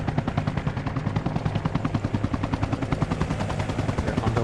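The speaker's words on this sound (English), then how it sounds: "Cobra just flew right over the MHQ." Enemy Cobra attack helicopter sweeping low overhead in a military video game, a loud steady rotor thrum with rapid chopping pulses and engine whine throughout, with faint bursts resembling distant gunfire mixed in.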